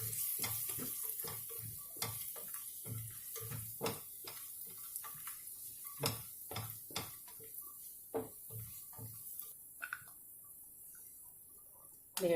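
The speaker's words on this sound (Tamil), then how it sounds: "முந்திரி கொஞ்சம் நல்லா வெந்ததுக்கப்புறம் திராட்சை போடணும் கடைசியில் 2வது வாட்டி" Cashews and raisins frying in a pan, with a steady soft sizzle broken by repeated sharp clicks and scrapes of a spoon stirring against the metal, close and fairly quiet, no talking.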